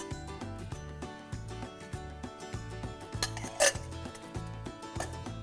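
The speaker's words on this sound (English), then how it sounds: "We'll start by keeping a pan on the flame." A pan set on a stove flame, heard as close, repeated clanks and clinks of metal cookware with a brief louder clatter near the end.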